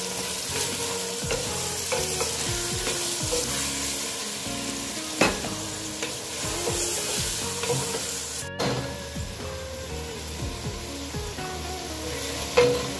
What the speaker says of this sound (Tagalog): Tapos, isunod natin yung carrot. Ayan, igisa natin siya para maluto din.